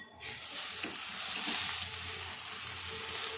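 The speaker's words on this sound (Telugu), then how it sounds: "ఇప్పుడు మనం తోటకూర వేసేసుకోవచ్చు" Amaranth leaves hit a hot pan for a carrot and amaranth stir-fry, giving a loud, steady sizzle that starts abruptly and holds evenly throughout, with faint stirring underneath and no talking.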